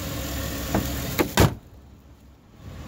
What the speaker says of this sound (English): Let's go ahead and shut the hood for you.